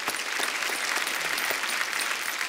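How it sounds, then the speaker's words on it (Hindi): Dense, even applause from a television comedy show audience fills the whole stretch, close and loud with no voices standing out. "एक बार जोरदार तालियां दलेर पाजी, सलीम पाजी और रिचा दीदी के लिए।"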